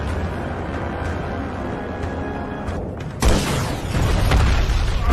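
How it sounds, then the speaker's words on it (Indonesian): A loud explosion bursts in partway through over a tense rumbling background, followed by sustained roaring debris noise. "mendengar ledakan hebat"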